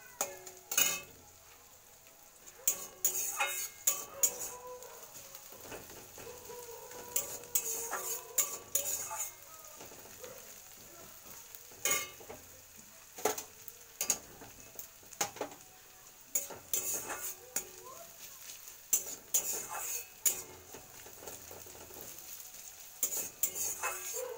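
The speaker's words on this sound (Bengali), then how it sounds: "দেখো পেঁয়াজটা ভাজা হচ্ছে, আর একটু ভাজা হবে" Onion frying in a pan while being stirred, with repeated sharp scrapes and clinks of a utensil against the pan in an irregular rhythm over a faint background sizzle, close and with no voices.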